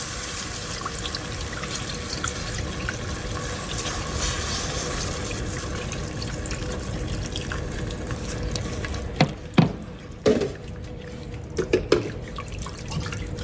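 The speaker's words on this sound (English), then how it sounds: "as we continue to whisk, we want to slowly pour in our milk" Milk pours steadily into a pot while being whisked, a soft, continuous trickling hiss. A few short clinks and taps come near the end, and no one speaks.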